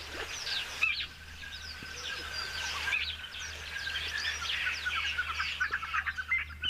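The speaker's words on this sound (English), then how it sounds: "Nice to hear those spur fowl as well." Spurfowl calling in a natural bush setting, a steady stream of overlapping chirps and calls, fairly clear and continuous with a few louder near calls toward the end.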